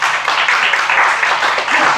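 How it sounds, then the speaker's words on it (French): Applause from an audience at a talk, a dense steady patter of many hands clapping throughout, fairly loud and close, with no speech over it. "Ben, bravo, Pascal, on peut applaudir quand même."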